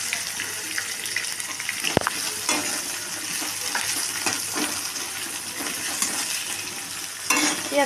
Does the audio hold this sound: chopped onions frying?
yes